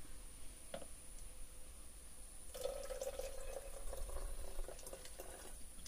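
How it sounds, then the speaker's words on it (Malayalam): Water pours into a homemade fruit fly trap, a faint, soft trickle that grows fuller partway through and continues steadily in a quiet room. "അപ്പൊ ഈ ഒരു ലെവല് വരെ നമുക്ക് ഈ വെള്ളം ഒഴിച്ചു കൊടുക്കാം."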